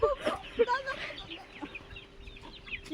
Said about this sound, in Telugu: ఇవన్నీ మా కోళ్ళు, మా మామయ్య కోళ్ళు,